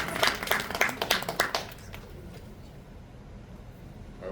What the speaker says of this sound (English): Round of applause for Donda, her dog.